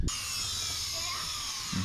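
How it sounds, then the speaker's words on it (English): Power drill turning a 25 mm spade bit through a control-panel joystick hole, a steady high whine held for almost two seconds, loud and close with no talk. "I'm going to start out by drilling out the joystick hole with a 25 bit."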